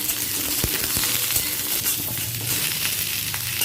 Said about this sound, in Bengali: প্রথমে আলুটাকে ভেজে নিচ্ছি এক এক করে সব সবজিগুলোকে ভেজে নেব